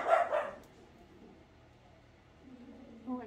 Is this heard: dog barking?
yes